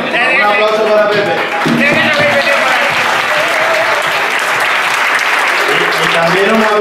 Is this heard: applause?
yes